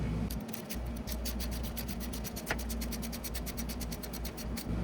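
Rapid, steady rhythmic rasping close up as a drain plug with a new O-ring is threaded back into a 2004-2006 Harley-Davidson Sportster transmission, continuous for several seconds with no talk.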